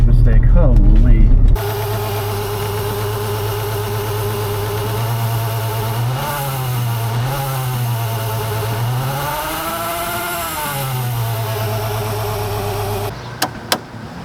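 A supercharged Mercedes 190E engine runs loud and close with a harsh, rattling whine, its pitch rising and dipping with revs over a sustained stretch before falling off at the end.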